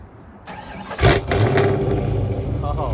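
A 1986 Ford Foxbody Mustang cranks briefly, then fires up with a loud bark and settles into a rough, heavy idle close by.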